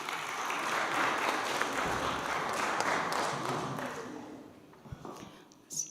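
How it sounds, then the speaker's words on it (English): Audience applause fills a conference session hall, a dense, steady wash of clapping that holds for several seconds, then thins out and fades, with a few isolated claps and knocks near the end. "A round of applause for Tarayana Foundation."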